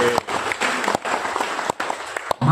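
An audience at a corporate leadership event at Berau Coal applauds in a short, loud burst of dense clapping with a few sharp individual claps standing out, briefly dipping before resuming.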